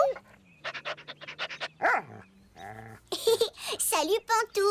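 A family's new pet dog barks and pans in an animated cartoon, sharp rhythmic yaps and panting puffs up close, mixed with excited voices of a child and adults.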